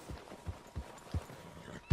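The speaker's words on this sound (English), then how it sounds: "I don't know how to stop a horse." Horse hooves clip-clopping in Red Dead Redemption II, a run of soft, evenly spaced hoof thuds at a trotting pace, fairly close, with one sharper knock right at the end and no talking.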